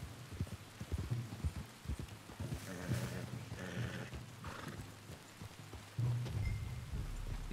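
Horse hooves clip-clop in Red Dead Redemption 2, a steady rhythmic plod of several close hoofbeats over a soft rain-like wash, with a horse snort or whinny partway through and a louder burst near the end.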